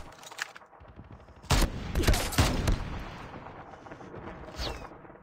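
Gunfire in the video game COD Mobile: a rapid, loud burst of shots with some impacts, then further scattered shots as the burst trails off.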